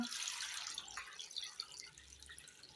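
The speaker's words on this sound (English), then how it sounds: "and then add water" Water pours and splashes into a pot of potatoes, a soft, quiet trickle with light drips and patters, no talking.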